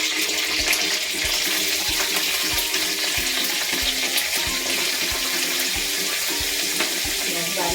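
A spoonful of asafoetida hitting hot oil in a pan sizzles loudly and continuously nearby, with clinks and stirring clatter scattered through the frying.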